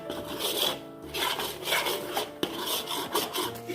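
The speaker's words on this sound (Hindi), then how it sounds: "तो अब हम इसे घी छोड़ने तक भूनेंगे।" Thick khoya and date barfi mixture being roasted in ghee and stirred, giving a steady scraping, rasping sound of a spatula dragging across the pan, continuous and close with small rhythmic variations, without any talk.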